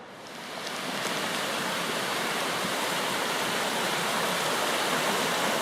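A small creek in a Marquesas valley runs with a steady rushing wash of water that builds during the first second and then stays loud and even, close by, with no voices.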